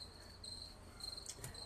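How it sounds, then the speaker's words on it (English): Faint, steady high-pitched cricket chirping runs throughout, quiet and distant, with no voices present. "Oh, these are cricket sounds. Oh, they are crickets."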